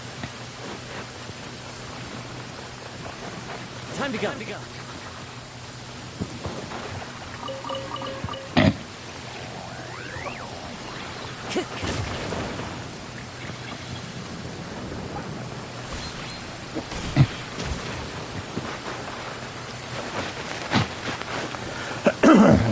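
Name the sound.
rain and thunder in a video game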